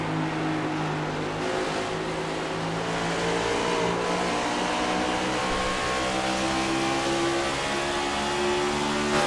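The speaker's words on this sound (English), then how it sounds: "If you listen closely, you can hear it hitting the dog leg very rough." A flat-bottom stock race car in the AMS Cup Series runs roughly over a bumpy dog leg, its engine a loud, sustained harmonic roar with shifting pitch and no talk over it.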